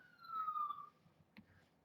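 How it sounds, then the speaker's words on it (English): A siren tone sweeps faintly in the distance over low background rumble, fading after a second, followed by a brief knock. "Ambulance."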